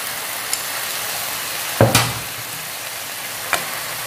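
Sweet potato leaves stir-fried with garlic and chili, a low steady sizzle under mostly quiet stretches, one sharp spatula clatter in the middle and small taps before and after.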